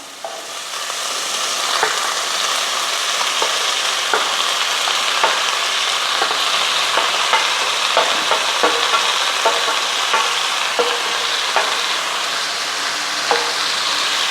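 Taro stems for a Kerala-style curry sizzle steadily in a pan while being stirred, with a constant close frying hiss broken by regular scrapes and clicks of the spoon, and no talking.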